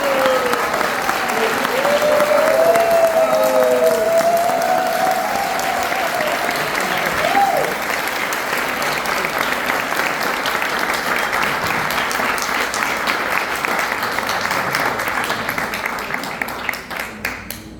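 An audience applauds loudly at an honorary doctorate ceremony, with dense sustained clapping across the whole stretch, a few voices calling out over it early on, and the applause tapering slightly near the end.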